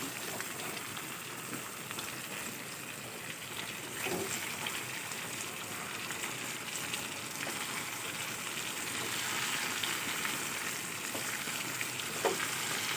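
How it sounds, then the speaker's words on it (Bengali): Chicken pieces frying in a pan with an onion, garlic and ginger spice paste for home-style biryani, giving a steady, close sizzle with occasional stirring scrapes and no talk. "সেই হালকা ভাজা চিকেনগুলো এবার আমি পেঁয়াজ রসুন আদা যে মশলাটা তার মধ্যে দিয়ে একটু আর একটু ভালো করে কষাই করে নিলাম"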